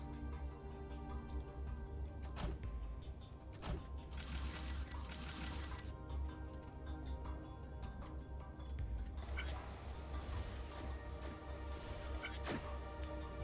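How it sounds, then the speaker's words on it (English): Mechanical clatter and ticking from a factory machine in the puzzle game Infinifactory, busy and steady throughout with short bursts of brighter hiss and a few sharp clicks, over a constant low hum. "And we weld it"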